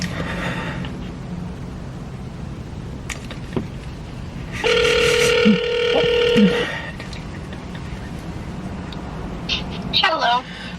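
A phone call rings out from a car parked at an emergency vet, a steady electronic ring tone held for about two seconds, with faint background noise and a brief cat-like sound toward the end.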